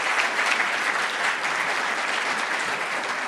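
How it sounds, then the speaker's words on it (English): An audience applauds panelists at a Federal Reserve event, a dense, steady wash of clapping from a crowd that holds evenly throughout. "I want to please join me in giving a round of applause to these panelists."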